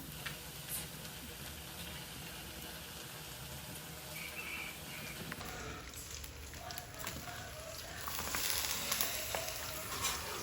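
Marinated pork humba frying in a pan for a home birthday meal, a steady bright sizzle with occasional stirring scrapes, close and continuous, with a voice talking at times over it.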